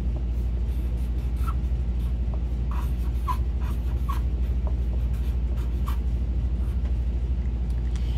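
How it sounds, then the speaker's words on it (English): A pencil writes a name on a worksheet, with short scratchy strokes coming and going close by over a steady low background hum. "you need your pencil to write your name"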